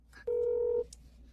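A telephone dialing tone for a phone call: one clear, steady electronic beep lasting about half a second, close and clean against quiet background hum.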